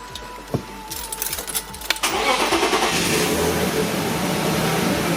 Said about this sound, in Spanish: vamos a arrancar el coche